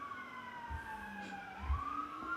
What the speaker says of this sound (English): Is that the sirens?